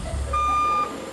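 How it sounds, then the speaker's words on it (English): Single sustained reversing beep from a 13-axle heavy-haul truck backing in to load a 170,000-pound generator rotor, a clear tone lasting about half a second over low engine rumble. "So now we have a full 13-axle truck that will be backing into the facility"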